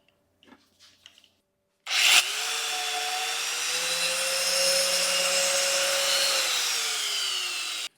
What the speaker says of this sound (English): let's see if we can cut a piece of this metal here